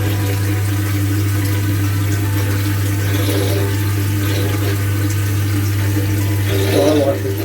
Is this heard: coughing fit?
no